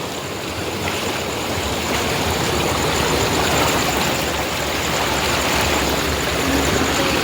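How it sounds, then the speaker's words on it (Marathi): Water of a jungle stream flowing steadily at night during heavy rain, a close, continuous broadband rush with no pauses throughout. "फ्लो आहे पाण्याला"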